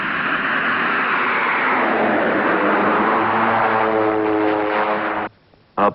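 A Pilatus PC-6 Porter turboprop lands using reverse thrust, its propeller roar loud and sustained, rising in pitch and intensity before cutting off abruptly near the end.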